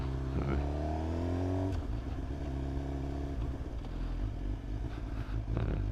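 2025 Suzuki GSX-R 750 motorcycle ridden at slow speed, its engine rising in pitch through a gear then dropping back, with a low steady rumble close by and a voice talking over it.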